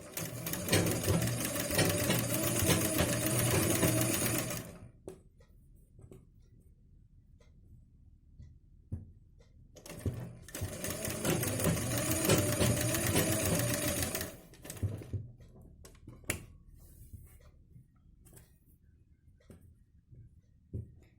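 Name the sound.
sewing machine stitching a blouse neckline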